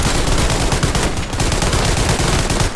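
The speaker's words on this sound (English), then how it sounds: "From the automatic fire of the MG42" Rapid, sustained automatic gunfire from an MG42 machine gun in the WWII video game Hell Let Loose, a loud continuous burst of shots with no pauses.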